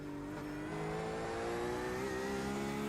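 A Porsche 911 RSR GTE race car in iRacing at the Charlotte Roval, its engine droning steadily with a rising tonal whine as it accelerates, heard alone at moderate, even loudness.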